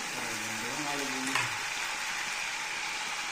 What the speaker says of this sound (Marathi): हे बघा चांगला झाला आहे आता तळून।